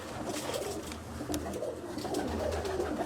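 Pigeons in a pigeon loft coo softly and steadily against a busy, noisy background, their low murmuring calls overlapping without pause.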